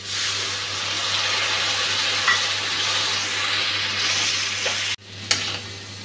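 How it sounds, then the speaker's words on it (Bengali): Spice paste sizzles in a pan with fried tomato and green chilli, a steady close frying hiss with a brief stir and clatter near the end. "এখন গুলে রাখা মশলাটা দিয়ে দিচ্ছি।"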